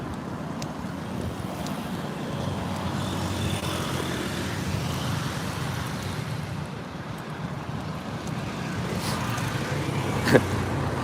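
Road traffic streams past on a busy street in Phnom Penh, a steady roar of engines and tyres close by, with no breaks and one brief sharp knock near the end.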